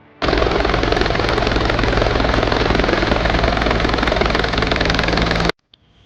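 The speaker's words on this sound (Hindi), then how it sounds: "मुख्यमंत्री का हेलीकॉप्टर सुबह 11:25 पर दीनदयाल उपाध्याय पशु चिकित्सा विज्ञान विश्वविद्यालय के हेलीपैड पर पहुंचा" Helicopter carrying a chief minister landing at a university helipad in Mathura, a loud, steady rotor and turbine roar that starts abruptly, holds close and constant for about five seconds, then cuts off sharply.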